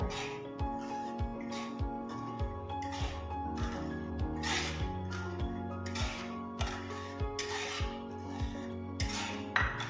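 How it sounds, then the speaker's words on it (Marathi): A spoon scrapes and stirs semolina roasting in ghee in a pan, a quiet repeated rasping rhythm with regular soft knocks against the metal. "तूप थोडं गरम झालं का त्यामध्ये रवा टाका व चांगला असा एकसारखा हलवून घ्या."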